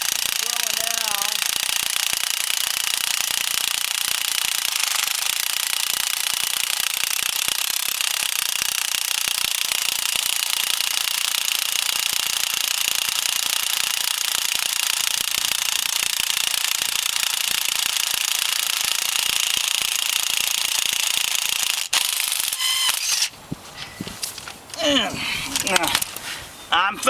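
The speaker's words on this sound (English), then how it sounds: "what I'm doing is drilling right in the center of my old fence post" A loud drill hammers continuously into wood for over twenty seconds, a rapid rattling buzz, then stops and a person talks.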